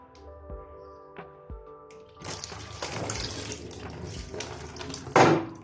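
Warm water running from a tap after a few clunks and taps, a steady splashing stream that swells louder toward the end.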